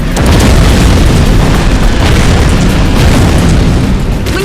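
Heavy bombs blasting a fort in the video game Chromehounds, a continuous roar of loud overlapping explosions and booming bursts, dense and unbroken throughout.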